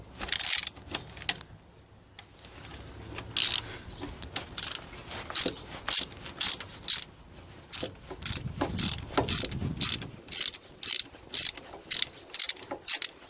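Ratchet wrench working on the prop shaft bolts of a Land Rover Defender 200 Tdi: rapid bursts of close clicking pawl sounds, repeated in short rhythmic strokes with brief pauses, no talking.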